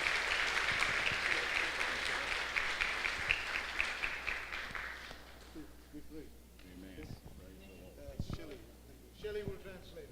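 A church congregation applauds at an international apostolic and prophetic forum, loud dense clapping filling the first half and then thinning out, with speech coming in over the fading applause.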